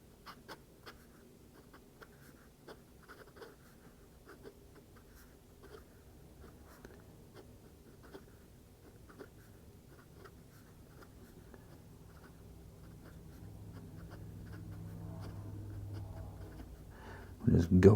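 A PenBBS 470 fountain pen with a medium nib scratches softly across paper, producing faint, steady writing strokes that swell slightly louder toward the end, with a voice speaking over them.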